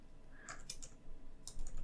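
A short burst of computer keyboard typing as a file name is entered: a few quick, light key clicks in two small clusters, close up and quiet, with no one speaking.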